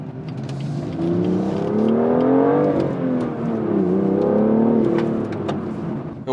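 A manual BMW M2 engine drones and rises in pitch as it accelerates, dips briefly during a gear change, then climbs again, a loud steady rev heard from inside the car with no speech.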